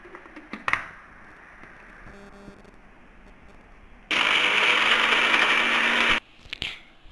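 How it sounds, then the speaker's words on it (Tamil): A mixer grinder jar pulverizes Bourbon biscuits into powder, a loud steady whirring grind that runs for about two seconds, then stops abruptly, with a brief rattle of the jar afterward. "இப்போ போர்பன் பிஸ்கட்டை எடுத்து ஜாரில் போட்டு பவுடராக்கி அரைச்சி வச்சுக்கணும்"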